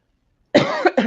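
Silence, then a single close, sharp cough with a quick second burst right after.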